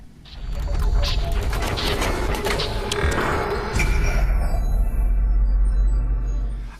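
A Samsung Galaxy S III Mini box is opened up close: loud, continuous rustling and sliding of cardboard and packaging with occasional creaks and clicks, easing off at the end.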